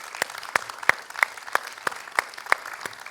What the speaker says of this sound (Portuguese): Isto parece uma salva de palmas.